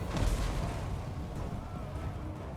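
Hell cannon artillery in Total War: Warhammer on a Chaos Warriors campaign battlefield, with a deep rumbling boom and low, rolling battle noise that stays dense and steady throughout.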